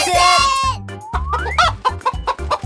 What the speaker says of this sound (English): It's Turuleka the chicken